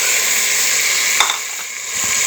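Tomato paste sizzles in hot oil with browned ginger-garlic paste in a pan, a steady broadband hiss with a brief clatter near the middle, fairly loud and continuous with no talking.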